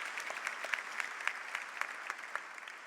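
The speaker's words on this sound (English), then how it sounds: "If you could all give them a round of applause for organizing this." Audience at a memorial applauds the event's organizers, a steady patter of clapping from a modest crowd with a few sharper individual claps standing out, fairly quiet and without talk.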